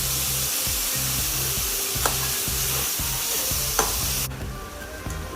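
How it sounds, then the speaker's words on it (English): Vegetables sautéing with oregano and cream in a pan give a steady, close sizzle with repeated rhythmic stirring scrapes and two sharp utensil taps before the sizzle drops away near the end. "Once the vegetables are sauteed well, I'm going to add quarter cup of the fresh cream."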